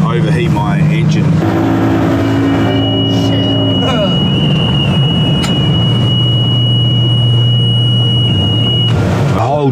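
A steady high electronic alarm tone from a fishing boat's overheating engine sounds for several seconds over a loud, continuous motor drone and wind, with voices talking over it outdoors on the water.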